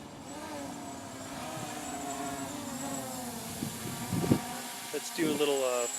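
An MJX Bugs 3 drone with brushless motors flying, a continuous insect-like whine with shifting pitch that rises as the throttle is pushed, heard at moderate distance against faint background noise.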